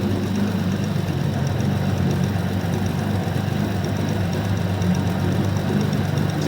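A Jaguar car engine, rusty and left sitting for eight years, idles steadily and close, a continuous low rumble with a faint ticking tappet rattle running through it.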